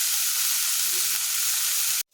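Giant taro (maan kochu) being stir-fried in a pan, a loud, continuous dense sizzle that carries on unbroken, then cuts off abruptly at the end; no one talks.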